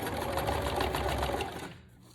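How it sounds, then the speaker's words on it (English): A sewing machine running a zigzag stitch over burlap-type ribbon, a fast, steady mechanical chatter close by for about a second and a half before slowing and stopping, with no talk over it. "I'm gonna put that in the machine now. And this time I'm gonna switch it to a zigzag stitch"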